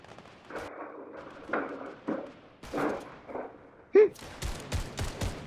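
Sniper bullets crack past in a game of a random-weapon rarity challenge, a sharp loud shot near four seconds followed by a burst of rapid impacts and shots, with some game noise before.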